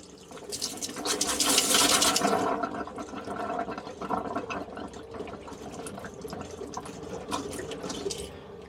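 A household tap with air in the pipes hisses and sputters, a loud rushing burst at first that settles into an uneven, spluttering trickle of water, close and without talk.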